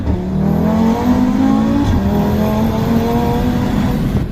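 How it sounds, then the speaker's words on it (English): An Audi RS3 exhaust spits rapid crackles and pops over a steady, loud engine drone, heard close up with no voices. "I love the crackle and pops for some reason."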